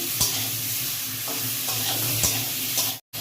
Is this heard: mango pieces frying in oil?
yes